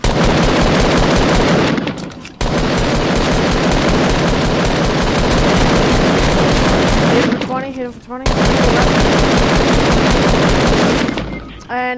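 Dense, loud gunfire in Fortnite battle royale, a sustained barrage of rapid shots with a sharp sniper crack, continuing nearly throughout with only brief gaps.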